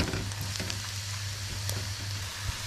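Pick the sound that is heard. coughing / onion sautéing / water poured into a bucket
onion sautéing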